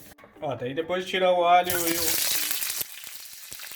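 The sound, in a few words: garlic and ginger frying in a pan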